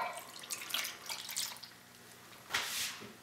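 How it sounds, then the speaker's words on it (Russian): Soy sauce, about 100 to 150 ml, poured into a meat marinade for a baked meat casserole: a faint, close pouring and splashing of liquid with soft drips and one short louder splash near the end, without talk. "Мы сюда добавим соевый соус, здесь примерно 100-150 мл."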